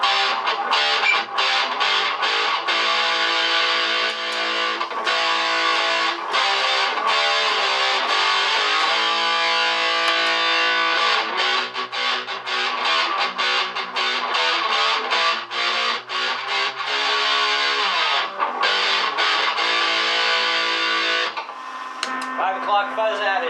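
Electric guitar driven through an Outlaw Effects Boilermaker distortion pedal into two Fender Mustang amps in stereo, playing loud, dense distorted chords and riffs continuously, with brief choppy stops near the end.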